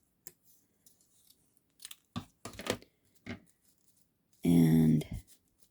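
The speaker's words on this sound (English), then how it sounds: "we definitely need to cut this off" Scissors snipping through paper on a folded flower craft piece, a few short separate cuts followed by one loud, longer close-up crunching cut near the end, with no talk.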